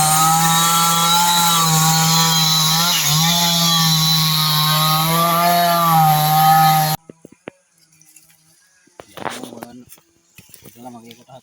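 A chainsaw cutting wood runs loud and steady for about seven seconds with a droning, buzzing tone, then stops abruptly, leaving faint clatter and a few distant voices.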